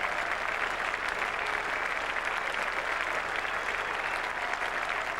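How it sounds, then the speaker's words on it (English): A Test match crowd at Trent Bridge applauds Brian Lara of the West Indies in 1995, a steady, sustained roar of clapping across the ground, fairly distant and even throughout. "acknowledging the applause of the crowd and his West Indies colleagues"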